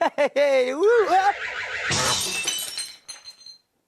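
A voice sings a short tune, then a glass object smashes loudly nearby. The break is followed by scattered tinkling of fragments that fade out.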